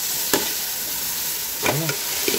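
Pork sizzles and sautés in a pan, with a steady frying hiss and a few brief scrapes of stirring.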